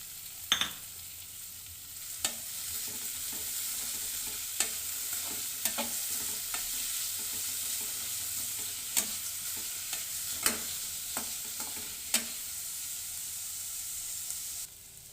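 Big onions fry in a pan with a continuous soft sizzle, while a spatula scrapes and taps against the pan at irregular intervals, close by and with no one talking.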